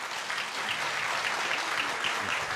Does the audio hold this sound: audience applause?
yes